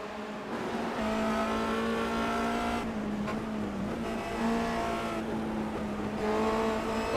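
Formula Renault 2.0 race car lapping Brands Hatch toward Surtees, engine note climbing and falling through gear changes, a sustained high buzzing rasp at moderate distance with brief dips between shifts.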